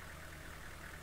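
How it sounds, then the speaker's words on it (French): A car engine left running in the woods in the horror video game Corpse Party, a steady low idling rumble, even and unbroken, faint and distant with no talk over it. "il a même laissé le moteur tourner"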